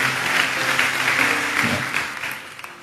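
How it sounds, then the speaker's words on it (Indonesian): A dense church congregation bursts into sustained applause, loud and steady at first, then thinning and tapering toward the end. "Beri tepuk tangan yang meriah."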